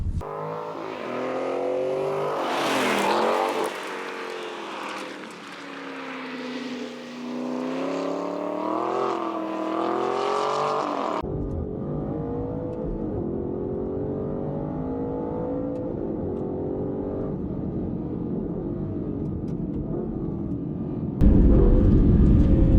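Aston Martin Vantage N430 British sports car driving, its engine rising and falling through revs and gear changes, a loud steady drone that shifts to a rougher cabin rumble and ends in a sudden louder burst.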